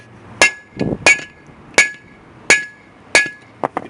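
Sharp metallic hammer blows seating a wheel bearing, five main strikes at a steady pace with a couple of lighter taps at the end, each ringing briefly with a bright clang.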